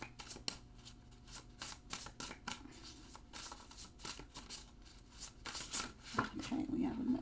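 Tarot cards shuffled by hand during a reading, a quick series of close, crisp riffling and flicking bursts that come and go, quiet and near, ending in a longer rustle.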